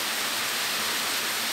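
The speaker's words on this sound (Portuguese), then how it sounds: "e de repente chega uma chuva dessa." Rain falls on a field of bean plants as a dense, even hiss that stays close and constant, with no one talking.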